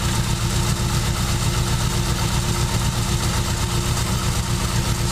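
A 1947 Cadillac Series 62 with a 350 modular flat-head V8 idles steadily after starting, giving a constant, close, loud engine rumble with an even rhythm and no voices over it.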